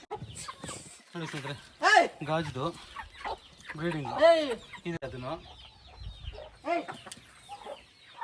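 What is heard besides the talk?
chickens clucking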